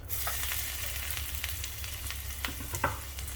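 Steady sizzling of garlic frying in hot ghee, with occasional crackles and pops and a few scraping stirs, close up and without talk.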